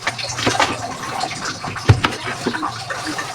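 Water runs from a tap while ampalaya is washed, a steady splashing flow with a few sharper knocks and bumps, heard close with a voice speaking at times.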